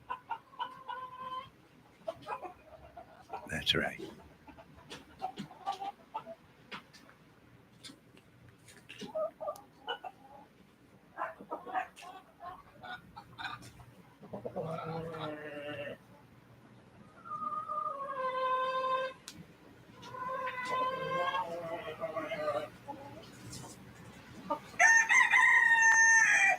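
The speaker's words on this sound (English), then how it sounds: "Listen to the torture of these chickens." Hens clucking and a rooster crowing at intervals, fairly close, with a voice speaking between and over the birds.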